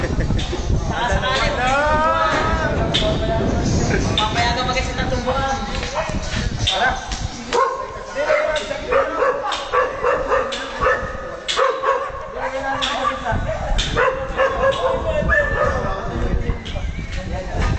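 Dogs barking, yipping and whimpering at an outdoor camp, several animals close by and loud, mixed with people talking and background music throughout.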